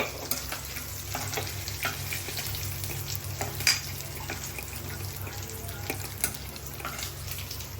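Dry fish sizzling in hot oil in a home kitchen pan for a Telugu-style curry with potato and tomato, a steady crackling fry with occasional stirring clinks and a sharp pop, no one talking.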